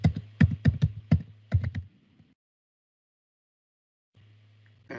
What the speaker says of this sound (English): Let me type in my password.